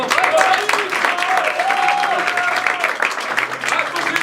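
A theatre audience applauds loudly for a performer, dense continuous clapping filling the whole stretch with a few tonal whistles or cheers rising over it and some voices mixed in.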